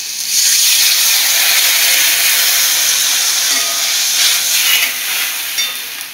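Water poured into a hot pan of Bengali sour fish curry (masor tenga), giving a loud, close, continuous hiss of steam and boiling that holds steady and eases off slightly near the end.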